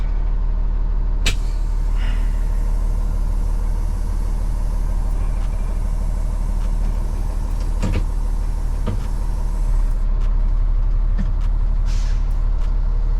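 A box truck's air parking brake releases with a few short, sharp air bursts over the steady low rumble of the idling engine, close by, with no talking.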